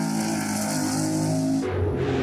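A Porsche rally car engine revs hard and loud, a dense steady roar that drops in pitch near the end as the throttle eases, with no voices.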